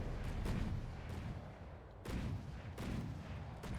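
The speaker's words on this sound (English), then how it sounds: "That's the 203mm gun that did that." A 203mm gun fires in a naval battle video game: heavy, rumbling blasts come in several bursts over a constant roar of battle noise, dense and muffled, with no voices.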